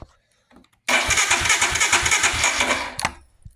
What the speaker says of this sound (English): Turn your key on, crank it over, make sure that the bike does not start